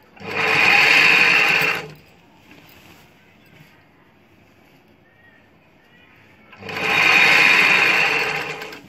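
A sewing machine stitches dhoti shalwar fabric in two loud, steady runs, one at the start and one near the end, separated by a few seconds of near quiet.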